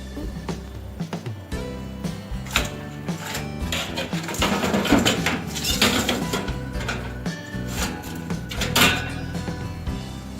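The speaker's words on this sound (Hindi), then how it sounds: "अब ये ट्रे हम ओवन में रख देंगे।" A baking tray for oven chicken tikka is set into a preheated oven with a run of metallic clanks, scrapes and knocks, close and fairly loud, spread over several seconds.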